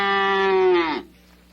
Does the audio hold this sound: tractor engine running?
no